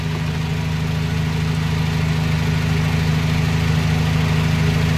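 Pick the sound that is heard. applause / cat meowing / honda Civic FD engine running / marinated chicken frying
honda Civic FD engine running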